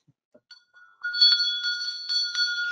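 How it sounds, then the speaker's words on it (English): A small bell rings out clearly after a few faint taps, its bright tone sustained and pulsing with several quick repeated strikes, close and alone. "I ring the bell a lot this week"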